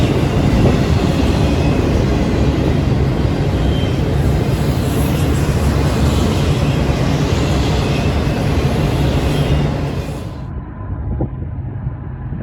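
Norfolk Southern freight train led by heritage locomotives, NS8101 Central of Georgia unit up front with a UP unit and NS8114, rolling past loud and close with continuous rumble and wheel noise, easing off near the end.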